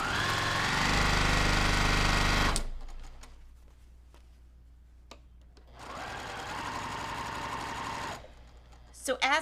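A sewing machine stitches a pinned quilt block in two close, loud bursts of rapid mechanical whirring, separated by a quiet gap with faint clicks and handling noises.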